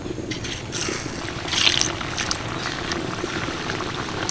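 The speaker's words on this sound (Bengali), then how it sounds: "এদিকে এই পিঠেগুলো ভাজা হতে থাকুক" Sooji and palm pitha frying in hot oil give a steady, close bubbling sizzle with a brief louder burst of crackle midway, heard alone without talk.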